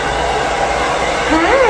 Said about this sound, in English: I just want to get them used to the hair dryer, the sound